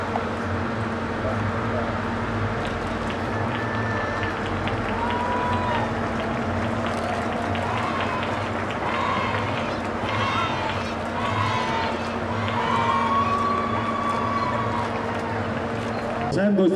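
Outdoor crowd at the coronation of the queen of the 78th Feria de las Flores in Huauchinango, 2016, applauding in a long, steady patter beneath an announcer speaking over a sound system.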